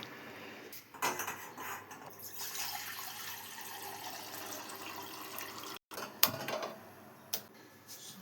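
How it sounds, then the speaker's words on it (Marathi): Quiet water runs into a pot, with occasional clinks of metal dishes and a few sharp knocks. Faint, with no voices. "पाणी गरम करायला ठेवतो आता."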